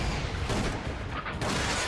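Continuous, dense gunfire and booming explosions from the video game Resident Evil: The Umbrella Chronicles, loud and steady throughout with no pauses, no voices.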